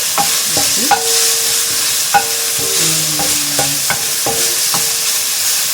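Food sizzling in a frying pan while browning for macaroni soup, with a steady hiss under repeated clinks and scrapes of a utensil stirring against the pan, close and fairly loud, without talk.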